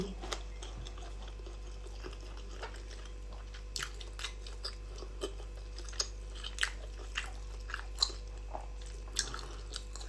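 Someone eating grilled German sausage, with close, quiet bites and chewing that come as scattered soft crunchy, wet clicks over a low steady hum.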